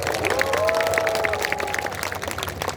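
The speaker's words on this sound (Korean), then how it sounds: "큰 박수 한번" A large crowd applauds loudly at an outdoor commemoration of President Park Chung-hee's 105th birthday at his birthplace in Gumi, with sustained clapping and a sustained musical tone sounding beneath the applause.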